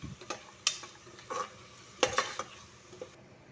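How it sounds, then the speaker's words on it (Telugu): Cleaned prawns are stirred in a pot for prawn biryani, producing several close scraping and clinking strokes of a spoon against metal over a faint sizzle, with quiet pauses between. "శుభ్రం చేసుకున్న రొయ్యల్ని వేసుకోవాలి వేసుకుని ఇలా తిప్పుకోవాలి"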